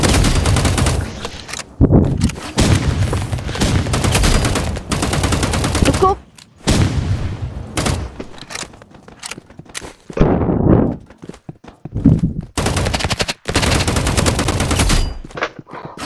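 Rapid bursts of loud gunfire from a basic weapon in a Roblox game, with game-style effects, firing in long spammy streaks broken by short pauses.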